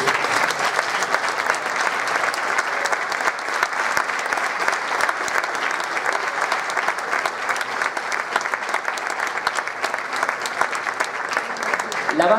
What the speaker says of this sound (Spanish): pido para todos ellos un fortísimo aplauso